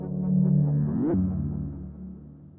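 Low synthesized bell tone swept upward with a pitch knob, a sustained hum that bends sharply higher near the middle and then rings on and fades.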